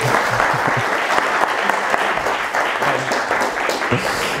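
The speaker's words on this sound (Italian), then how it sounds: "Un applauso a Marco Caccini" Steady applause from a conference audience fills the room for a speaker at a Blender Italia event, dense hand clapping sustained and fairly loud throughout without a break.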